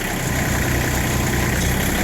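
Woodmaxx WM-8600 backhoe engine running steadily at idle while its hydraulic cylinders are being primed, a constant close mechanical drone with vibration and no talk.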